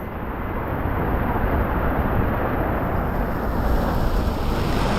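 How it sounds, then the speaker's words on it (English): Strong, steady wind of sustained 30 knots in the Bahamas roars across the microphone with a dense low rumble that barely lets up, sustained and loud throughout. "These gusts are, I mean, it's just sustained 30 knots."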